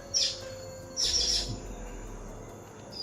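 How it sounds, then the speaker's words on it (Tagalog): A bird in a video game gives a sharp high chirp, then a quick run of three more chirps a moment later, over a faint quiet background. "may ibon dyan."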